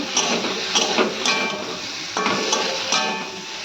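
Spiced vegetables fry in a pan while being stirred, giving a loud, close crackling sizzle broken by repeated bursts of scraping and clattering from the spoon against the pan.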